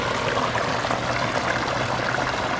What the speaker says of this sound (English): listen to the sound of that waterfall